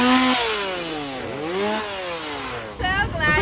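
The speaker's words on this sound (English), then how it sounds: "There's like a lot of chainsaws." Chainsaws rev loudly inside a Howl-O-Scream haunted house at SeaWorld, their engine pitch climbing and falling in continuous whining sweeps, with a rougher burst near the end.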